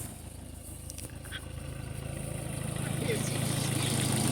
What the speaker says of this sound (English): She makes turbo whooshy noises.